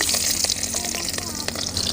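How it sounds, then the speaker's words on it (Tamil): Chopped onion frying in ghee, a steady dense sizzle and crackle running throughout at close range with no pauses. "அதே நெய்யில் அரிஞ்சு வச்ச வெங்காயம் 1/2 கப்பு"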